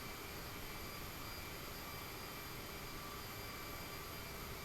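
A small airplane engine drones steadily inside the cockpit before takeoff at Wellington, New Zealand, an even broadband hum with faint high tones, quiet and unbroken, with no talk.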